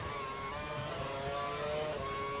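An F1 race car engine screams at full revs in the F1 2012 video game at the Monaco Grand Prix, a steady high-pitched whine that holds level and fairly quiet throughout, with no voices.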